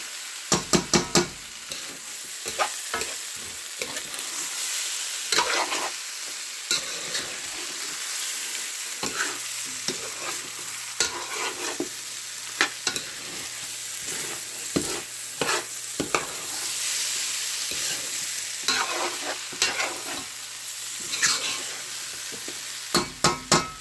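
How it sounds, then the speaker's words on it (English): A pot of rice, lentils and chicken sizzles steadily while a spoon stirs it continuously, scraping and knocking against the pot in quick irregular bursts over the constant frying hiss. "That's why you're continuously stirring the pot."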